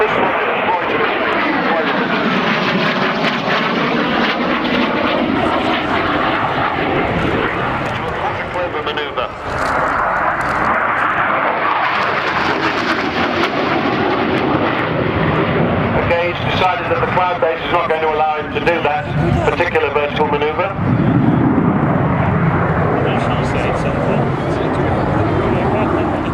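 A Harrier jet roars through aerobatics at the RAF Cosford air show, its loud, sweeping engine noise rising and falling as it passes, while a commentator talks over it throughout.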